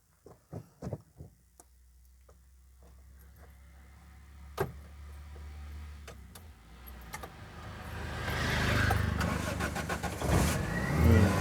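A driving-school car in park or neutral starts up: a few sharp clicks, a low idle hum, then engine noise swelling louder toward the end, with voices faintly present.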